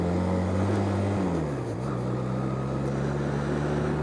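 A Honda Nighthawk motorcycle cruising on the road, a steady low engine drone with shifting pitch, a brief drop as if changing gear, under constant wind rush.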